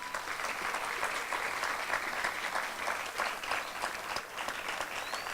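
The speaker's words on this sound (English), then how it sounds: "we can show our appreciation by a resounding round of applause for them" A crowd at a public library opening ceremony gives steady, sustained applause for the library staff, a dense field of many hands clapping at an even level throughout, no speech.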